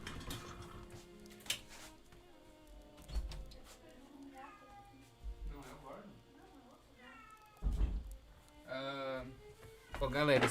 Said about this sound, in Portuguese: meu gato tá chorando